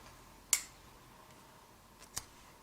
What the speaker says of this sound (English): and I'll cut this yarn.